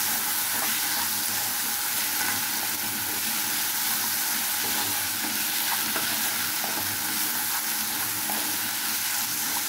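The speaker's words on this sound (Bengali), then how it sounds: "দিয়ে মশলার ভিতরে একটু ভালোভাবে সবজিটাকে কষিয়ে নেব।" Vegetables frying with spices in a pan, stirred into the masala, give a loud, continuous close-up sizzle and hiss that holds steady throughout, with faint stirring noises beneath. No one speaks.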